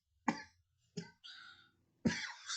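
A person coughs several times in quick succession, close and loud, the bursts separated by short pauses, the last one rougher and longer, like throat clearing.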